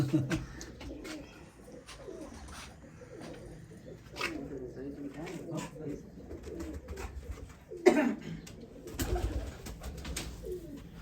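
Sialkoti pigeons, including a grey mother and her daughter, coo in soft repeated low calls, close by and steady, while people talk throughout and a louder flurry of sound rises near the end.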